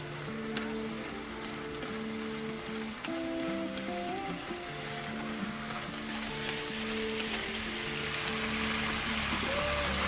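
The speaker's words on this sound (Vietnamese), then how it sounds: "Mưa tạt nè, mưa không tạt kia." Rain splashes down steadily outdoors in a rural setting, a soft, even hiss of drops on surfaces heard at a distance beneath a faint melodic tone.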